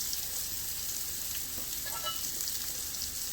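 Panko-crusted jerk tuna searing in a pan over low heat, a steady, quiet sizzle and crackle with a few brighter pops near the middle, no voices.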